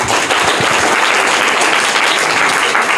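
Loud, dense applause from an audience at a general-knowledge quiz competition, a continuous roar of many hands clapping close by, with no talking over it.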